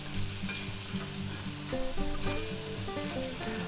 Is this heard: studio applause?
no